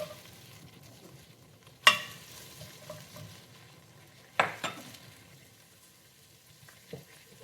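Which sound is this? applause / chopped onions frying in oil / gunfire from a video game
chopped onions frying in oil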